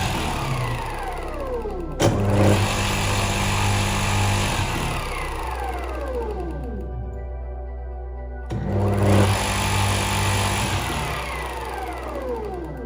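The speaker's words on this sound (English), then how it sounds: "if we connect it to the main power, it turns on as any motor would" An electric motor plugged straight into a 220-volt mains socket hums and whirs steadily, with a strong low drone, rising and falling whine sweeps, and a sharp cut and restart partway through.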